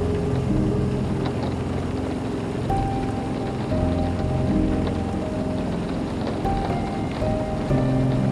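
Steady rain patters on a small aircraft in flight over a constant engine drone, with a few faint tones and clicks cutting through the continuous noise.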